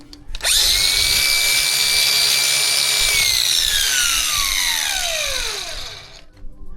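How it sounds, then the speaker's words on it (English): A power saw whines steadily through Lexus GX470 body metal for several seconds, its pitch dropping toward the end as the cut finishes and the blade winds down. "I'm able to cut this lower part without banging my saw into anything under here"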